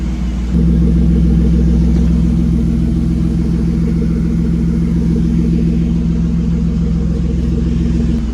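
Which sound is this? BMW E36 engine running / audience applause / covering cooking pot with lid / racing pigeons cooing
BMW E36 engine running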